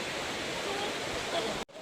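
Cold river water rushes steadily in a broad, close hiss like a small waterfall, continuous throughout and breaking off briefly near the end.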